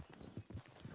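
Hooves of a spooked horse in the video game Red Dead Redemption 2, a few soft, muffled clip-clop thuds in quick succession, faint and close.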